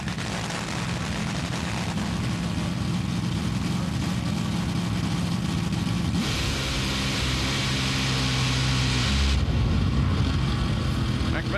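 A top fuel dragster roars at a Mile High Nationals qualifying session, a loud continuous engine blast that shifts pitch partway through, with a commentator talking over it.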